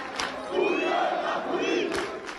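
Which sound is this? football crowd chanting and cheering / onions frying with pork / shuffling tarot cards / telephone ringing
football crowd chanting and cheering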